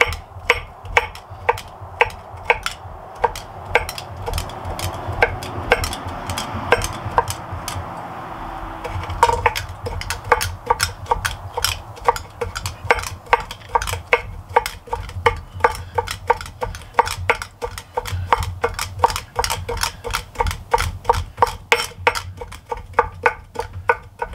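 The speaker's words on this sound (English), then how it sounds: "take this bunch here and we're going to go ahead and chop it up" Rapid, steady knife chops strike a cutting board while a bunch of ingredients for gyros is cut up, with sharp close taps repeating in a brisk rhythm and only brief pauses throughout.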